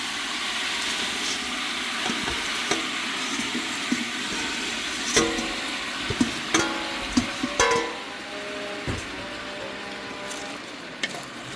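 Collard greens tipped into a pot with smoked turkey and stirred, a steady simmering hiss broken by scattered knocks and clatters of the spoon against the pot.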